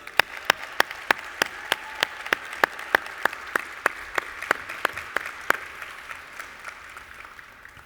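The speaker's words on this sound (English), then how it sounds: "Please help me welcome to the stage with a warm round of applause, Dr. Marwan Al Zarouni." Conference audience welcoming a speaker to the stage with sparse applause: sharp individual claps in an even rhythm, fairly close, tapering off toward the end over a quiet room hum.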